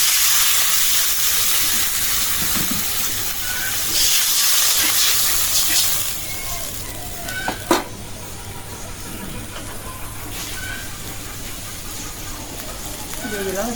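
Water hits onions and spices frying in a pan. It sets off a loud, hissing sizzle that surges early and then settles into a softer, steady steaming crackle, with voices talking over it.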